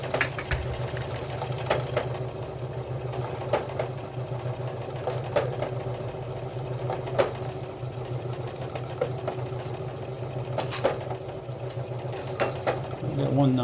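A Keller F256B deluxe die filer, freshly cleaned up, runs with a steady mechanical hum and a rhythmic reciprocating chatter, and sharp clicks and scrapes come through as the file cuts into a workpiece. A voice speaks briefly in the background.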